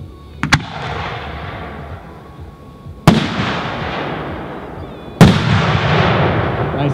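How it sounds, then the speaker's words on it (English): Lido 3-inch firework cylinder, red, white and blue with salute: three sharp, loud bursts spaced a few seconds apart, each followed by a crackling, fading tail, heard outdoors. "Next up is the Lido 3-inch cylinder"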